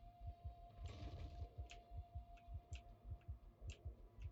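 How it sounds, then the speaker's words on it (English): A heartbeat pounds in the Factorio Space Age video game. Low thumps come in a steady, fairly quick rhythm, close and prominent over a faint hum and occasional soft clicks. "You can hear your heart beating."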